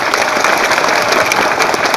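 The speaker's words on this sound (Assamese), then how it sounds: "জোরদার তালি দেব নজরুল ভাই কারণে।" Crowd applause at a political meeting in Gauripur, dense loud clapping from many hands, sustained and close, with no talk over it.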